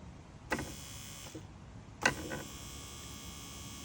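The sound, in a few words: Mercedes CLK W208 electric seat motor running on power pack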